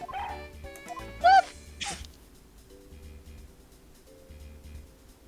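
A small cartoon dog named Missile barks in the Ace Attorney Investigations video game, one sharp yip standing out over quiet background game music, followed by a brief whimpering squeal.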